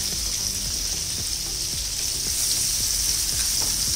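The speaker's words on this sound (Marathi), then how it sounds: "आता कांदा थोडासा मऊ होईपर्यंत चांगला परतून घ्यायचा" Sliced onions frying in oil with roasted masala for a dhaba-style chicken bhuna give off a steady, even hiss with light scraping of a stirring utensil, close by and free of talk.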